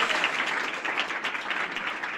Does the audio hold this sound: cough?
no